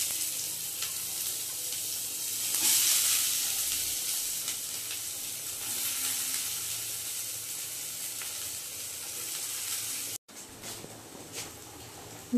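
Chopped garlic and onion fry in hot oil with a continuous close sizzle and faint stirring, steady throughout, briefly cut off near the end.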